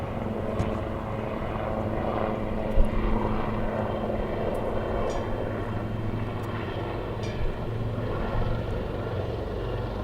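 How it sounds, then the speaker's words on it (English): Helicopters of the Sarang Helicopter Display Team, the Indian Air Force aerobatic team, fly at Waddington Air Show on arrival day. A continuous, somewhat distant rotor drone holds steady for the whole stretch, with no voices. "The Sarang Helicopter Display Team, the Indian Air Force National Aerobatic Team."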